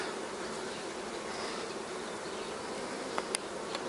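A honeybee swarm buzzes around a hive as it moves in. The buzz is dense and continuous and fills the whole clip, with a few brief sharp clicks near the end and no talking.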